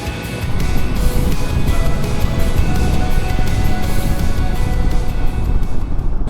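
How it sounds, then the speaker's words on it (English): Steady, loud traffic rumble from a very busy street below a balcony, with passing vehicles blending into a constant roar and some wind buffeting the microphone. "Sorry for the noise outside, but it's a very busy street underneath my balcony that I'm sitting on."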